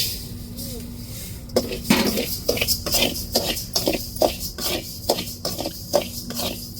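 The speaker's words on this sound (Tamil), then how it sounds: "அரிசியவும் நல்லா வறுத்து எடுத்துக்கிடுவோம் கொஞ்சம் கொஞ்சமாக" Rice is dry-roasted a little at a time in a pan, heard as close, repeated scraping and clinking strokes of a spatula against the metal in an uneven rhythm.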